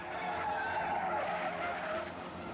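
Car skidding on a freeway just before striking a deer, a sustained harsh tire squeal and road noise, loud and steady over a few seconds.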